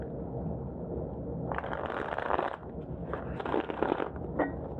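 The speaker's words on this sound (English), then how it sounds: "Let's shuffle these really good." A new tarot deck fresh out of the box being shuffled by hand, two bursts of crisp riffling card flutter close by against a quiet room.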